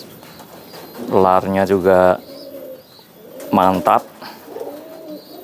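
A healthy racing pigeon of the high-flying type coos near the microphone in two short, throaty bursts, with someone speaking Indonesian between them.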